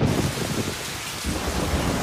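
A thunderstorm rumbles low and heavy beneath a continuous hiss of rain pouring down, loud and unbroken.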